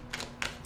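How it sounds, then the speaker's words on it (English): A deck of tarot cards being shuffled, heard as three short, crisp papery snaps or taps spaced apart, close and moderately quiet against a faint background hum. "while I shuffle these cards"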